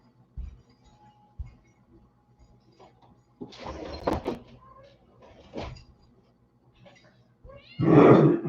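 A cat outdoors gives a few short meows mixed with thuds and rustling that sound like a door or cupboard, ending with a louder, clearer meow close by.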